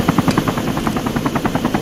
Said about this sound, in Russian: Вот он, пожалуйста, вертолет.